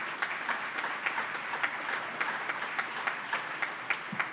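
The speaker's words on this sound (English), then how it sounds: "How about a round of applause for our friends in labor?" Dinner guests at a Democratic committee's annual spring banquet at Villa Lombardi applaud steadily, a fairly soft, roomy wash of many clapping hands with a few sharper individual claps standing out.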